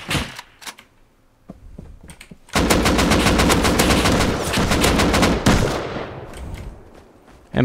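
MP5 gunfire in the survival game Rust: a few scattered single shots, then a long, loud, rapid automatic burst lasting several seconds, followed by another short volley, with no talk over it.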